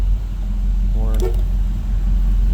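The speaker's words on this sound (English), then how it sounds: "Horn." A short single honk from the horn of a restored 1967 Chevrolet Malibu, sounding close over the steady low rumble of its idling engine.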